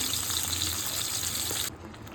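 Bhetki fish frying in a wok gives a dense, continuous sizzling hiss that cuts off abruptly near the end, leaving a quieter background.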